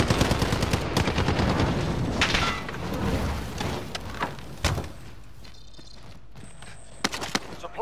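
Rapid gunfire from Call of Duty: Modern Warfare, dense overlapping shots for the first five seconds, then thinning to sporadic cracks and a few late bursts, with a faint electronic tone near the end.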